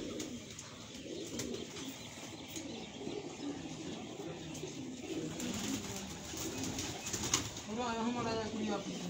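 Pigeons, one brought from Dubai, coo in a low, steady murmur with occasional faint wing flutters, and quiet voices come in near the end.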